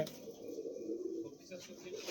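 Royal Kalchira pigeons coo softly and continuously, a low, murmuring bird sound heard close by, with some faint background noise.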